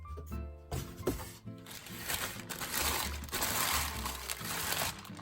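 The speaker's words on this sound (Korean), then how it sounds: "뜯어보면 일단은 비닐로 되어 있고 이거를 열어보면 스티로폼 있고요." Plastic and styrofoam packaging being torn open and pulled off a Xiaomi third-generation humidifier, with close, irregular crinkling and crunching bursts and squeaks.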